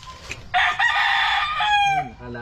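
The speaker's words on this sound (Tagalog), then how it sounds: "Ang dami kong manok." A rooster crows one loud, close, drawn-out cock-a-doodle-doo among other chickens, with a few clucks trailing after it.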